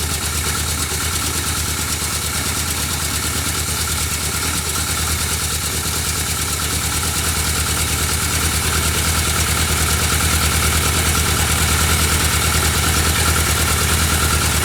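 A 1979 Yamaha XS1100 F motorcycle engine idles at around 1,000 rpm, with a steady, continuous low rumble and vibration that holds even throughout, close and moderately loud.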